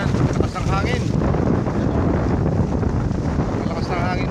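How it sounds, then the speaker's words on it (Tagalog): Strong wind buffets the microphone on a hillside farm above the sea, a loud, steady roar with gusty rumble throughout and no break. "Malakas ng hangin dito."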